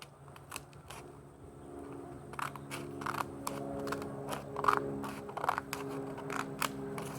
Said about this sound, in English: Cut this bottom part off from the line. So like from right here, cut it off.